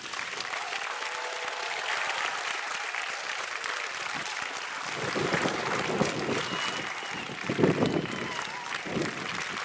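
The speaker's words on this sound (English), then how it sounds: "let's have another big round of applause" Audience applause at a university graduation ceremony for medicine and health sciences, a broad sustained clapping crowd, swelling louder partway through with some cheers, continuous and fairly distant.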